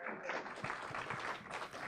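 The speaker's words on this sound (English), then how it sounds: "That's worth a round of applause right there." Faint, distant audience applause in a conference hall during a talk, a soft continuous patter of clapping.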